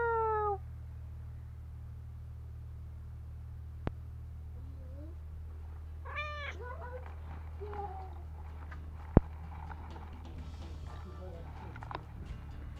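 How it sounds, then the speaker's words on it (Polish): A cat meows several times, short rising cries spread out over quiet background hum, with a couple of sharp clicks in between. "Jak robi kotek? Miau."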